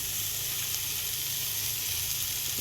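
A ground paste of cumin, green chilli, garlic, coconut and turmeric fries in hot oil for a vegetable thoran, filling the moment with a loud, dense, continuous sizzle up close, with no voices.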